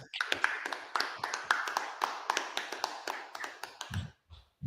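Rapid hand claps in a quick, uneven rhythm, fairly close, with a brief pause near the end before one more clap.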